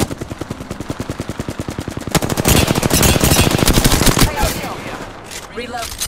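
Rapid automatic gunfire in a shooter video game plays as a steady stream of close, loud bursts. It grows denser and heavier midway, then eases into scattered shots and game effects.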